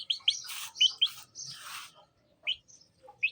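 A young chick from a family of pet birds chirps in quick high bursts, several peeps close together at first, then a pause and two more isolated chirps, close and clear.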